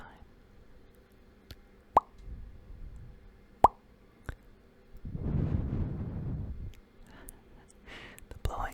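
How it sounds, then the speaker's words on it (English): A breathy gust of blowing hits the microphone for about two seconds, rumbling and close, between soft clicks and quiet mouth sounds. "The blowing sounds a little weird"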